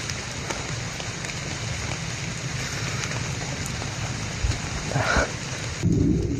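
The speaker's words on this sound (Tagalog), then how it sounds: "Nanuhan sa ulan." Heavy rain pours steadily with low rumbles of thunder building near the end, a dense continuous hiss filling the outdoor scene.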